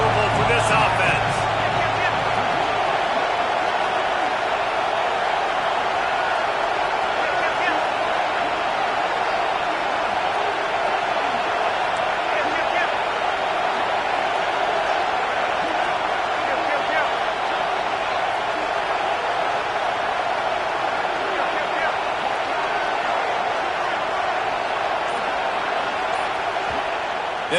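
A roaring stadium crowd at a football game, a dense, constant wall of loud noise that holds steady throughout, with a commentator speaking over it.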